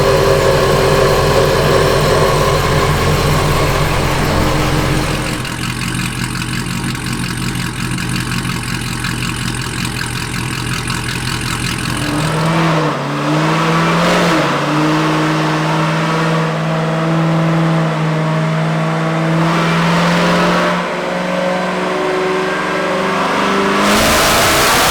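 A custom supercharged Camaro engine and exhaust pulls hard and loud for the whole stretch, with the roar rising and falling through several gear changes, no talking over it.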